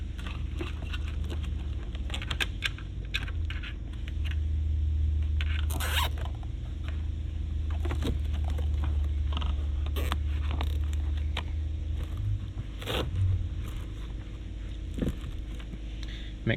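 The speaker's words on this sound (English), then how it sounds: "I'm going to zip tie them to this factory wiring right here" Zip ties are cinched around factory wiring inside a Ford F-Series truck during a stereo install, giving repeated close ratcheting zips amid rustling of cables and plastic creaks.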